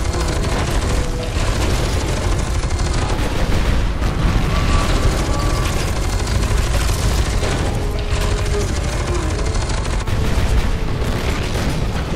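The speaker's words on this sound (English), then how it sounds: "Oh, and I have rockets." Rocket blasts and heavy gunfire boom continuously in the shooter game F.E.A.R. 2, a dense, loud barrage of explosions with a voice intermittently speaking beneath the din.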